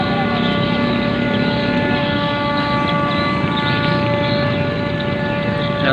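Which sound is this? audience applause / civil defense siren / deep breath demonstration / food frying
civil defense siren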